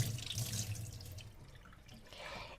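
A running water tap splashes into a sink during washing, a steady close hiss of flowing water that softens slightly and then swells again.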